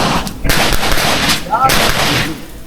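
Gunfire at a security guard firing training range, with a few sharp broadband shots in quick succession over steady background noise and voices talking nearby.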